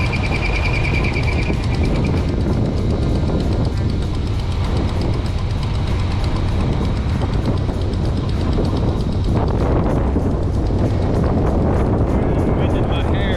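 A Winnebago RV engine drones steadily while the vehicle drives, carrying constant road rumble and wind noise the whole way through, with a voice speaking over it.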